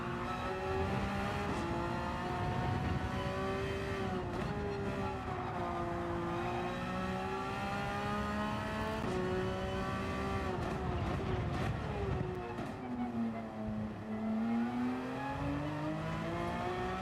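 A race car engine in Gran Turismo 7 holds a high, steady whine through a time trial, its pitch dipping and climbing with gear changes and throttle, loud and continuous with no talking.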